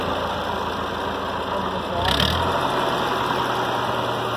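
A Ford 8N tractor engine idles at a very low 300 RPM, a close, steady putter of slow even firing pulses that briefly surges and thickens midway, with a person talking nearby.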